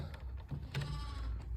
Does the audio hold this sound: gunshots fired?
no